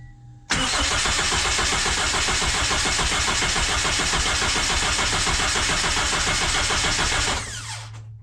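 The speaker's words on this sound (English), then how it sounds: "turn it over and try to start it for a few seconds" A Honda K24 engine swapped into an FRS cranks steadily for several seconds on a first start attempt, a loud, close starter churn with a rapid rhythmic pulse that stops abruptly.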